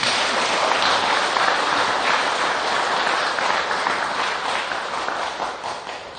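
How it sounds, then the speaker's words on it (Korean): Sustained applause from a congregation at a Buddhist dharma talk, a dense steady wash of many hands clapping at moderate distance that slowly fades toward the end, with no voices over it. "이 박수 쳐야 되는 겁니다."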